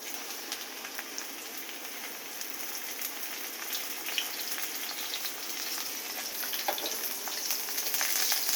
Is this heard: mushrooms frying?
yes